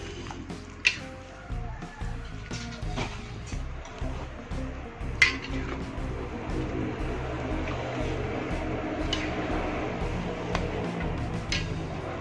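Rendang meat being stirred with spices in a pot, Aceh-style, giving occasional clinks of utensil on metal and soft wet squishing over a steady low background.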